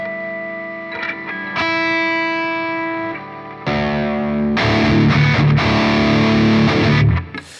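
Electric guitar tuned down to drop D, run straight into a Line 6 Helix ANGL Meteor amp model with no cabinet, rings out sustained chords, then loud, harsh and fizzy distorted strums with a buzzy top end.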